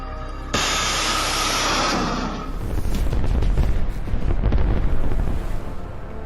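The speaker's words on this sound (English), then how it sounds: "The cluster munition explodes," A cluster munition bursts near a Russian ammunition truck in Ukraine, a sudden roaring blast followed by a long, dense crackle of rapid secondary pops and rumbling.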